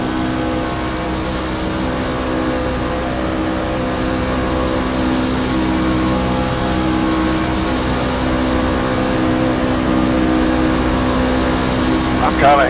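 Race trucks at Talladega roar together in a steady, dense engine drone that holds without break, loud and continuous, with a voice briefly heard near the end.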